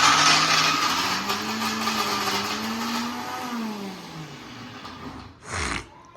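An electric mixer grinder grinding masala in a home kitchen gives a loud, steady whirring drone with a wavering motor pitch, then stops briefly before a short final burst.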